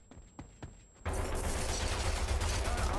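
A few sharp cracks at the start, then a sudden dense burst of rapid gunfire in the video game Rogue Company that roars on loudly and continuously until the end.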